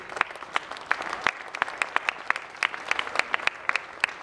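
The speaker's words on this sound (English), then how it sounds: "give a round of applause to all of our seniors" A crowd in a high school gym claps for senior players at a boys basketball senior night, a loud, dense round of applause with sharp individual claps standing out throughout.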